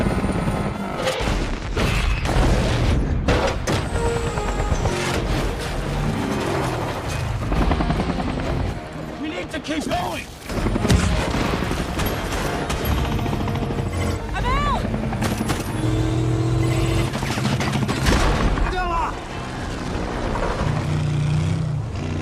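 Helicopter in an action film scene about rescuing hostage workers, its rotor sound mixed into a dense, loud soundtrack with bursts of gunfire, booms and voices throughout.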